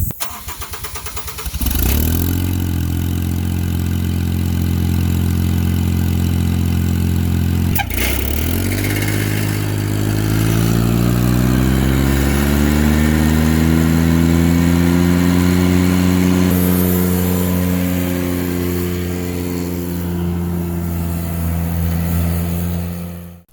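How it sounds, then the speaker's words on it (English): Ventrac 4500 tractor engine cranking over and catching, then running loud and close with a steady low drone and rising, shifting harmonic tones as revs climb and settle, with no talk. "So let's get on this Ventrac and see how it goes."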